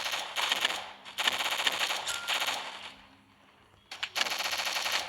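Video game machine gun, two long rapid bursts of automatic fire at close range, a brief pause, then another sustained burst.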